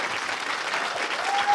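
An audience applauding at a live show at the Birdland Theater, a dense, even wash of clapping from many hands that holds steady and loud throughout, with a faint voice briefly audible within it.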